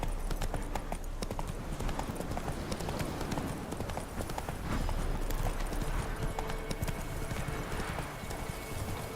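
Roach the horse trotting with steady rhythmic clip-clopping hooves in The Witcher 3, continuous and close, over constant game ambience, with a brief whinny and someone talking.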